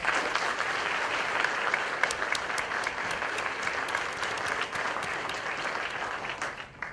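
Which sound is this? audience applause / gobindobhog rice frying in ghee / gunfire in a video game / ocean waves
audience applause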